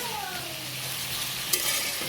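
Soft, steady sizzling of small items frying in oil, quiet and close, with a brief scrape of stirring partway through.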